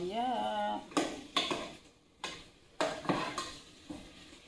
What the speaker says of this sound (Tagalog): Habang nagisa ako niyan